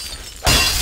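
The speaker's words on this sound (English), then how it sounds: "this glass is actually breakable" Glass shatters in the Minecraft video game, a sudden bright crash cutting in after a quiet moment and ringing on to the end of the short moment.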